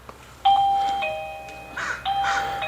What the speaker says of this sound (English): When I push the doorbell button,